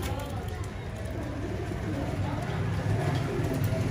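Flying pigeons from a loft of twenty-four birds coo in low, murmuring tones close by. The cooing runs without a break over a constant backdrop of other noise.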